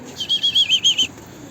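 A bird flaps its wings close by in a quick burst of about six soft, rhythmic beats lasting under a second, then quiet.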